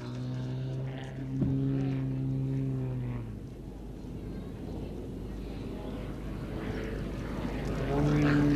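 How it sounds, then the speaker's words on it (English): A propeller aircraft flies an aerobatic rolling circle at the Midlands Air Festival, its engine droning with a wavering pitch that rises and falls as it rolls, while a commentator talks over it. "Aircraft is describing a circle over the ground while rolling, a very difficult manoeuvre to fly"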